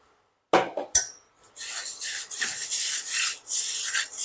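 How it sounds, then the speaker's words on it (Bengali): Moong dal dry roasting in a pan, grains scraped and rubbed against the metal in continuous rasping strokes after a couple of sharp initial knocks, close and fairly loud. "এবার এই মুগ ডালটাকে শুকনো খোলায় ভেজে নেব।"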